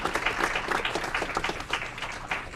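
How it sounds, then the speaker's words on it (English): A city council chamber breaks into applause for Colonel Totus, a moderate, fairly distant patter of many hands that keeps a slightly uneven rhythm throughout, with no speech over it. "I'm going to ask that we all give him a round of applause for"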